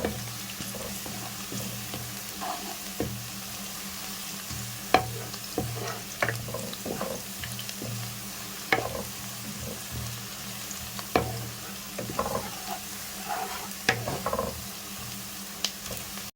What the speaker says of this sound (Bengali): পেঁয়াজটাকে খুবই ভালোভাবে নেড়ে ছেড়ে পেঁয়াজটাকে হালকা ব্রাউন